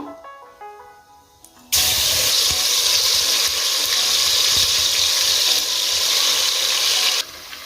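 Raw chicken hits a hot pan of oil, bursting into a loud, steady sizzle that holds for about five seconds and then cuts off abruptly, with a little soft background music before it starts.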